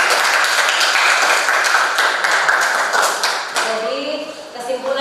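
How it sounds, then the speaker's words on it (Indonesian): Classroom applause at the end of an Indonesian school lesson, dense group hand clapping that holds for a few seconds then thins out as a teacher's voice comes in. "Iya, tepuk tangan untuk terakhir dulu."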